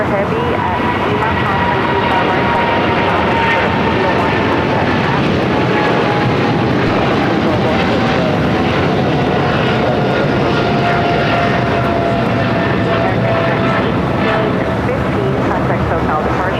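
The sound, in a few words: American Boeing 777 taking off on runway 25 right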